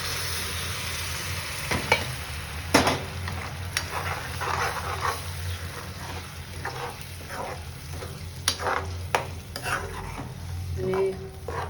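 Gravy made from five large desi tomatoes goes into a hot pan for a cashew gathiya curry, with steady sizzling and frying under repeated spoon scrapes and clinks of stirring, close and moderately loud.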